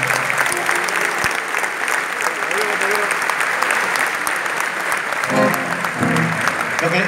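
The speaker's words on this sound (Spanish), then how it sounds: "quiero un fuertísimo aplauso para él y sus compañeros" Loud applause from a crowd at a family celebration, dense sustained clapping with cheering voices rising near the end.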